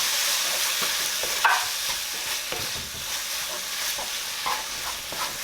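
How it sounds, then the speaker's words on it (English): A mix containing homegrown turmeric is stirred in a hot pan, a steady close sizzle of frying with repeated scraping strokes of the utensil against the pan. "And we're gonna give that a quick mix."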